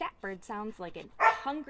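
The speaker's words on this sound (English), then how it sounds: "That's my dog" A pet dog named Strider gives a few short, close barks and yips, while someone talks over and between them.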